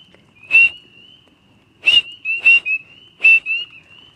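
A human whistle imitates a spring peeper frog's call: four sharp, rising peep notes in an irregular sequence, the last three closer together, fairly loud against a quiet background.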